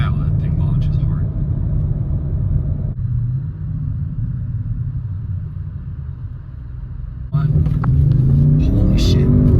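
Audi RS6 Avant launching hard on a road, heard from inside: a loud, sustained engine roar that drops briefly at a gear change, then swells again as it keeps pulling.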